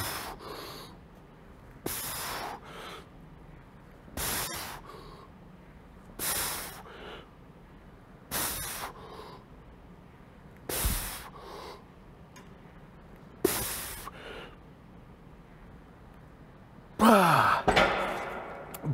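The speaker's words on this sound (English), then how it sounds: "All you can hear is your heavy breathing." Heavy, rhythmic breathing during a chest workout: close, loud exhalations about every two seconds, each a sharp puff or sigh, with quiet gaps between, a little louder near the end.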